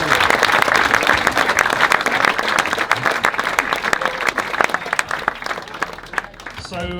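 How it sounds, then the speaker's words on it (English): Audience at a 50th anniversary gala dinner and dance applauds the under-14 girls' team, winners of the Capital Girls Cup: steady, dense clapping fills the room for about seven seconds before fading at the end. "So big round of applause."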